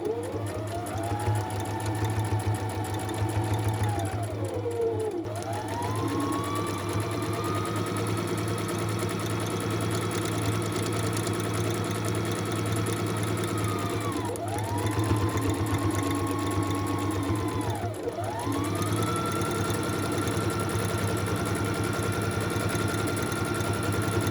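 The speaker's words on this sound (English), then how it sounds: "I'll just do the straight stitch all around" A sewing machine runs a straight stitch around fabric bookmarks made from scraps, a steady close mechanical hum with its pitch rising and falling as the speed changes, with brief slowdowns between runs and no talking.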